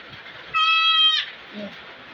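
An orphaned goat kid being bottle-fed lets out one loud, close, wavering bleat lasting about half a second, with faint quieter sounds around it.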